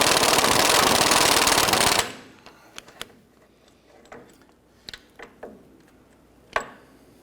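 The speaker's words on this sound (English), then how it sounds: "I'm going to go ahead and loosen this nut." A ratchet loosens the passenger-side engine mount nut on a 1993-1997 Ford Ranger: two seconds of loud, rapid clicking, followed by sparse quiet ticks and clinks.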